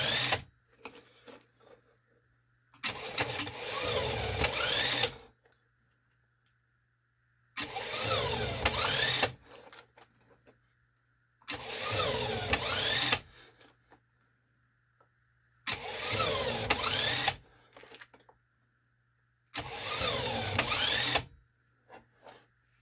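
A leadscrew tapping machine cutting a threaded hole in metal plate runs in five bursts of about two seconds each, grinding and whirring hard before it bogs down and stalls into silence between bursts. It is close and loud, with no talking.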